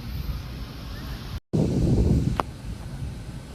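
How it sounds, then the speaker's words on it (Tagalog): Steady gusty beach wind in Miami roaring across the microphone with broadband rumble, a brief dropout midway, then continued buffeting wind. "mas malakas yung hangin dito"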